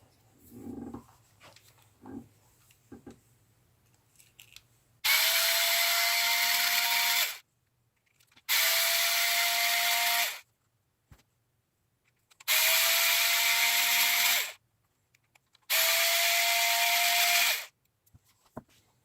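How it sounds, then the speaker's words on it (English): A power driver whirs in four separate bursts of about two to three seconds each, with short pauses between them, loud and close, as it unscrews the rear differential of an EMAXX RC truck. Light handling clicks come before the first burst. "let's grab a driver and rip this fucking thing open"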